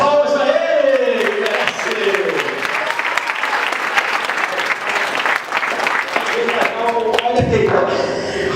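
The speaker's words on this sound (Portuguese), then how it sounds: "as palmas para ele!" Studio audience breaks into sustained applause and clapping at a Brazilian TV game show, loud and continuous for several seconds with voices mixed in near the end.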